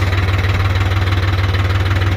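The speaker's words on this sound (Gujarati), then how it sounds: "આગળ નિયો હોલાન્ડ ટ્રેક્ટર છે, મોબાઈલ કોડ 5510" A New Holland 5510 tractor runs its engine in a farm field while laying mulch, a loud, close, steady diesel throb with a fast regular pulse and no voices.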